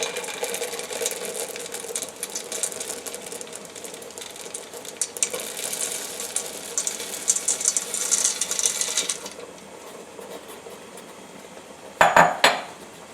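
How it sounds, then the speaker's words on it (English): Chocolate chips are stirred into thick fudge in a pot, giving a steady scraping, clinking churn that runs for several seconds, then settles into quieter stirring before a brief louder knock near the end. "we're going to add the chocolate chips into that and mix it"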